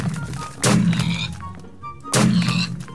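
A pepperbox pistol in Minecraft fires twice, each shot a short, punchy thunk about a second and a half apart, with faint game sounds between them.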